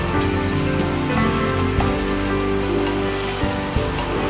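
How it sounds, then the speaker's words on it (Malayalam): Green chilies fry in a hot pan with a steady, loud sizzle and crackle like heavy rain, continuous for a few seconds, with no talking. "പച്ചമുളക് പാകത്തിന് മൂത്ത് കഴിഞ്ഞു."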